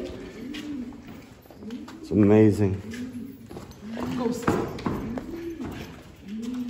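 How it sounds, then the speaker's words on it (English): A pigeon coos once inside Edfu temple in Egypt, a short, fairly loud throaty call set among a person's ongoing talk. "It's a pigeon."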